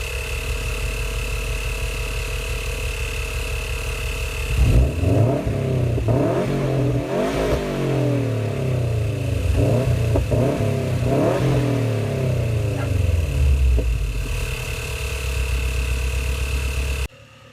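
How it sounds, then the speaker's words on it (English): A 2011 Subaru car engine idles steadily, then is revved hard in a string of quick throttle blips that rise and fall over several seconds before settling back to a close, even idle. "let's go ahead and rev the car up"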